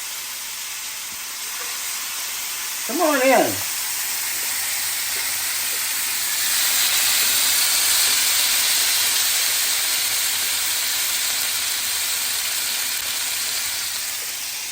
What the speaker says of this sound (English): I'm going to let that go ahead and sizzle